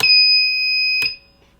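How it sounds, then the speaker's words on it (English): A single loud electronic buzzer tone from a Lumenier QAV X quadcopter drone, steady and piercing, holding for about a second before cutting off abruptly. "Buzzer."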